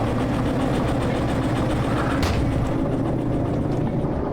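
Locomotive in the Derail Valley train simulator slowly pushing a railroad car during shunting, a steady loud rumbling engine drone with clanking rail texture and a brief hiss partway through, no talking.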